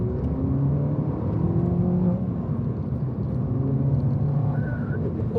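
Turbocharged car pulling hard in second gear, its engine note climbing in a steady rising drone with a faint turbo whir, heard from inside the cabin at moderate loudness.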